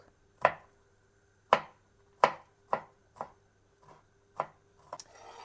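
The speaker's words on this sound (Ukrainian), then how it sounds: "розчавлюю чесник і буду нарізати дуже-дуже надрібно чесничок" A knife chops crushed garlic finely on a board, eight sharp separate knocks at an uneven pace, close and clear against a quiet room.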